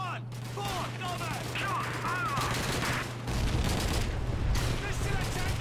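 Rapid gunfire and booming blasts roll through a Call of Duty 2 battle at El Alamein, a dense, continuous barrage with a deep low rumble swelling partway through, voices faintly mixed in.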